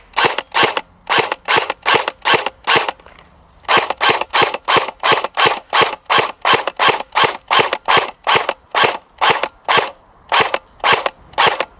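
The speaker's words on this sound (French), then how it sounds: "Allez, on va essayer de remettre encore quelques tirs." Rapid single shots from an airsoft Thompson M1A1, about two dozen sharp loud cracks in a steady rhythm with one short gap near the start, close and without talk.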